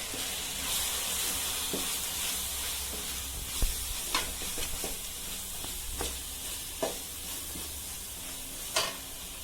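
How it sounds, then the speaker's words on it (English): Two teaspoons of coriander powder being stirred into a vada curry in a pan, a steady frying hiss broken by sharp scrapes and clicks of the spoon, close and alone. "Now I'm going to put in 2 teaspoons full of coriander powder. I'm going to mix it."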